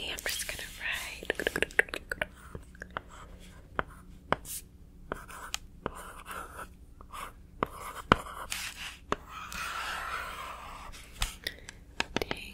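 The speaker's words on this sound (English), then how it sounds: "I'm just gonna write." Close ASMR writing on paper, soft scratchy strokes and light taps continuing at an irregular pace, with faint whispering underneath.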